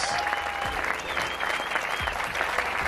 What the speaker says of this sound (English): Let's hear it for our champion, Tom Evans.